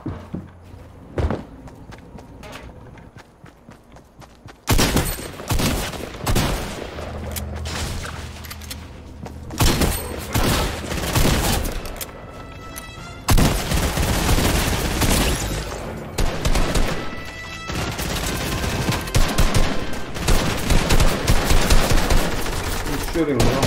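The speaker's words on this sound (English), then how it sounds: "He's shooting me." Video-game gunfire comes in loud, rapid bursts and single shots, mixed with footsteps and mechanical clicks and building into near-continuous shooting.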